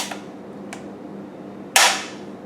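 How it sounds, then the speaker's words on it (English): The dust cover of a Swedish AG42 Ljungman rifle is slid forward and pulled back, giving a couple of small metallic clicks and then one sharp, loud snap that rings briefly. "Slide this dust cover forward, pull it back, and that opens it up."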